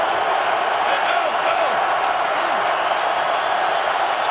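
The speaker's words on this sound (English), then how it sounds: "This Lions crowd is loud, cheering on the first place Lions." Detroit Lions home stadium crowd at an NFL game against the Jaguars, a loud continuous roar of cheering fans that stays steady throughout, with no break in the noise.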